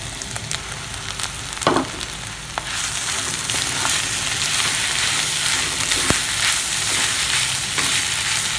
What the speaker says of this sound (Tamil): நம்ம பரோட்டாவை நல்லா வறுத்துக்கலாம்.